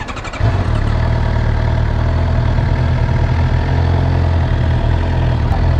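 A 2017 Suzuki GSX-R750 sport bike engine starting and settling into a steady loud idle close by, continuous even rumble with no talking.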